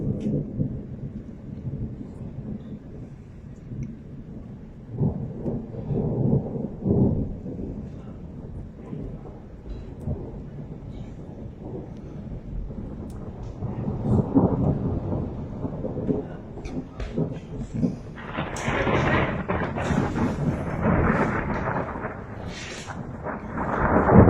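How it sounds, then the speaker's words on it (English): A recorded thunderstorm: deep rolling thunder rumbles over steady rain, building through several long peals to louder, sharper cracks near the end, with no voices. "5 years ago, we had one hell of a thunderstorm."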